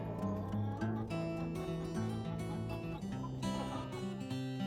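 Chickens in a backyard coop cluck and murmur in overlapping, tonal calls, close and fairly steady over a few seconds, with no talk.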